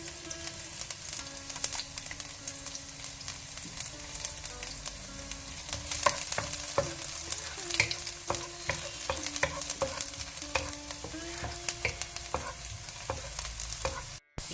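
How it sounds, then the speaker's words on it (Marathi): Finely chopped onions and garlic fry in hot sunflower oil in a pot for a Mangalorean pork pepper fry, giving a continuous close sizzle broken by repeated clinks and scrapes of stirring throughout. "तें उन जाल्लेंत ताका 2 कांदे लसूण बारीक कातरून घालची."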